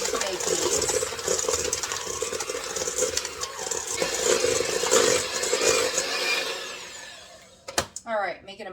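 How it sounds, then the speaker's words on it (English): Steady buzzing whir of an electric hand mixer creaming soft room-temperature butter and sugar for banana oatmeal cookies, running several seconds before cutting off, followed by a brief voice. "I'm just going to cream these two together using my hand mixer today"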